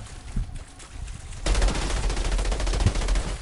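The player's gun fires in the video game Outriders: a sustained, rapid burst of automatic shots starts suddenly after a quieter moment and continues loud and steady to the end.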